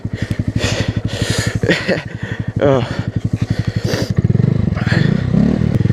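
Honda Grom motorcycle engine chugging and revving on a snowy road in Sweden, a loud close pulsing idle that rises in pitch, with people talking over it.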